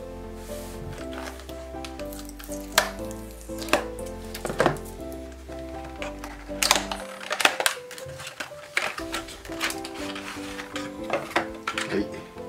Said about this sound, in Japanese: では早速開封します。